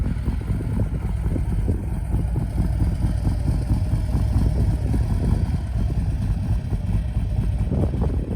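A Harley-Davidson Road Glide Ultra motorcycle with a new cam, oil pump and catch can idles close by, its engine throbbing in a low, steady, lumpy rumble with no pauses.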